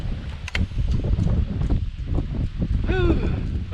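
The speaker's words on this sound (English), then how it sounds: "hopefully the wind isn't creating too much noise in the GoPro" Gusty wind buffets a GoPro microphone outdoors, producing loud, continuous rumbling bursts and low-frequency thumps, with a few faint clicks and a brief tonal sound near the end.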